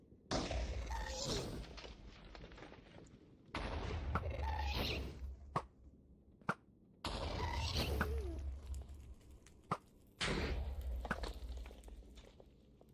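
Ghast fireballs in Minecraft land as four loud, broadband bursts of blast and rumble, each a few seconds long, separated by brief quiet gaps with sharp clicks between them.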